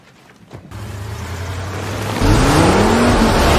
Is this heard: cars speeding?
yes